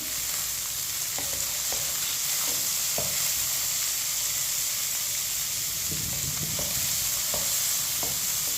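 A spoon stirs semolina with chopped coconut, raisins and dry fruit as it roasts in a pan, giving a soft continuous sizzle broken by repeated scraping strokes at an irregular rhythm, close and without voices.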